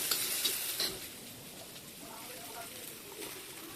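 Potatoes fry in a pan with spices for ghugni, giving a soft, steady sizzle with a few stirring scrapes near the start. The sound is fairly faint and close.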